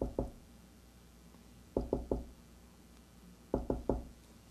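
Three sets of three firm knocks on a door, evenly spaced with quiet pauses between each group, close and clear against a hushed room.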